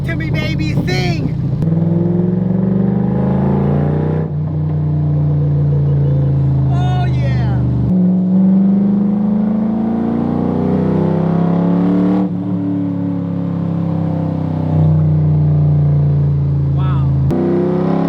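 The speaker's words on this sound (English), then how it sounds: "Listen to those cracks and pops." Coyote V8-swapped Shelby Daytona with a 600 hp engine, its exhaust rumbling loudly through repeated throttle blips with sharp cracks and pops, heard up close from inside the car under excited talk.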